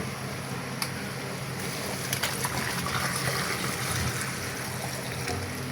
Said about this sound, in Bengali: তো পানি চেঞ্জ করে দিই